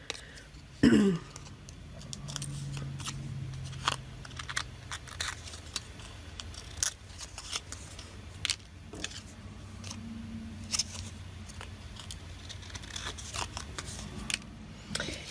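Scissors trim the edges of paper Christmas tags: a long run of short, close snips and rustles repeating steadily over a low background hum, with a brief throat-clearing near the start.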